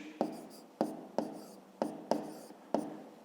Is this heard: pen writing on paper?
yes